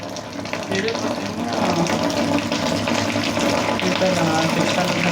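Drinking water gushes and splashes steadily from a motor pump outlet, a continuous rushing flow filling the whole stretch.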